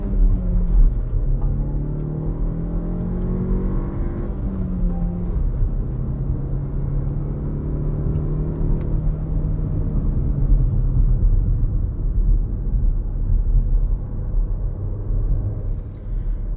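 A 2026 Renault Duster with the 1.3 turbo engine and manual gearbox accelerating under throttle, a loud steady engine drone heard from inside the car, rising in pitch through the revs, then dropping and climbing again after a gear change.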